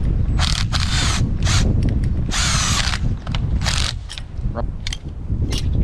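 A power nut-tightening tool fires in short, loud rattling bursts while a quick attach is fitted to a mini excavator, close and repeated with brief gaps between.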